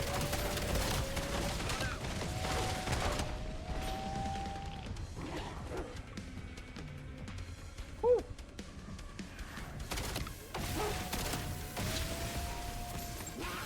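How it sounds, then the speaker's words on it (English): Rapid SMG gunfire in Black Ops 7 zombies, dense bursts of close, loud shots at the start and end with a quieter stretch between, and game sounds throughout. "It's an SMG."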